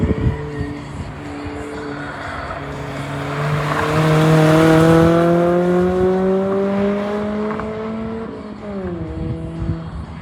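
A car on a cool down lap at a track, its engine note rising and falling as it draws near, peaks loud in the middle and fades away, with a shift near the end.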